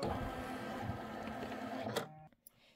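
An embroidery machine quilting a Kimberbell Nativity bench pillow block whirs and clatters steadily up close, then cuts off abruptly and falls quiet.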